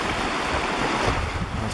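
Creek water in full flow washes over a sandbar at Reedy Creek, a steady broadband rush with wind noise on the microphone, constant and close with no speech.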